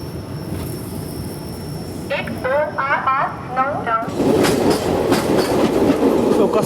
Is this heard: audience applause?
no